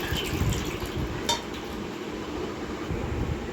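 Water poured over a Shiva idol during a ritual bath, a steady close trickle and splash of liquid running without pause, with a brief metallic clink partway through.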